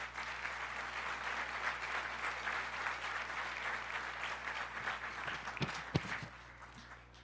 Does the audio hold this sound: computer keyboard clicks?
no